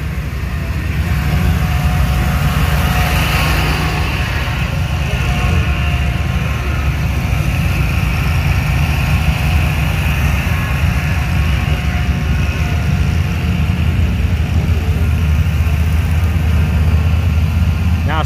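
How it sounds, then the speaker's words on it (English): A vehicle engine, larger than one used earlier in the year, runs steadily and loudly throughout at a farm with hay bales, a continuous low rumble with no pause. "definitely has a bigger engine than what we have seen at the beginning of the year"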